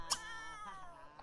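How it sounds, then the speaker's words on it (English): A cat in The Sims 3 video game gives a short, clear meow near the start, with a fainter drawn-out mewing trailing after it against a quiet game background. "Those cat sounds get on my nerves."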